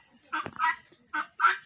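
A peacock gives a few harsh, honking calls in short separate bursts, fairly near, with quiet gaps between them and no talking.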